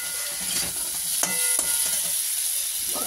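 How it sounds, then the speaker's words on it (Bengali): A curry is sautéed in a pan, giving a soft continuous sizzle and hiss broken by a few sharp clanks and scrapes of stirring, close and moderately loud, with no talking. "এবার এটাকে একটু ভালো করে কষতে হবে"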